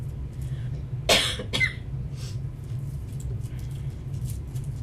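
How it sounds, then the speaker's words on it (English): A single sharp cough followed quickly by a second, shorter one, close by, over a steady low hum with faint ticking in the background. "But then I get a tickle cough."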